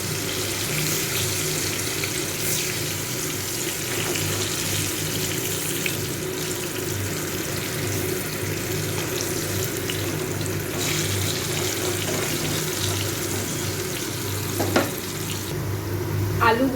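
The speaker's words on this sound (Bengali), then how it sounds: "এইভাবে উল্টিয়ে পাল্টিয়ে আলুগুলোকে একটু লাল করে ভেজে নেব।" Potatoes fry in hot oil in a pan for pulao and mutton kosha prep, a steady loud sizzle with occasional scraping as they are turned over.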